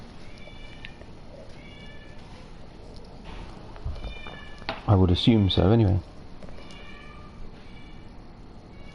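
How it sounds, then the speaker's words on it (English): A noisy pet cat meows indoors, a few short calls with a louder burst of meowing midway, heard alongside a person talking. "We have a very noisy cat."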